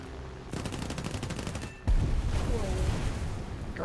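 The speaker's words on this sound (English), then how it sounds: "There's a bomb explosion right there." Rapid machine-gun bursts rattle in the War Thunder video game, cut off by a heavy, booming bomb explosion, followed by a lingering rumble and scattered gunfire, all loud and close.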